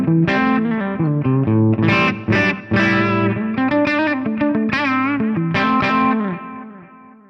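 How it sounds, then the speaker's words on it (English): An FM3 amp modeler runs a USA clean guitar amp tone into a 4x12 Cali cab with delay and large room reverb, strumming full, shimmering chords for several seconds before ringing out and fading. The tone is loud and continuous, with no talking. "the USA clean is paired with this 4x12 Cali cab"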